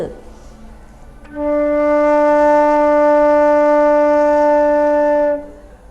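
A wind instrument sounds one long, steady low-register D, rich in overtones and loud, held about four seconds after a brief faint lead-in.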